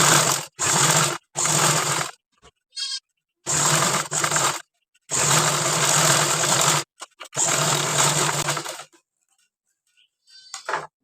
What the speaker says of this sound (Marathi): मी न टाचणी लावताच हा सर्कल म्हणजे स्टिच करून घेत आहे